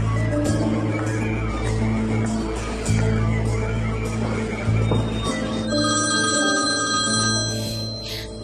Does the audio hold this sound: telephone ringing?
yes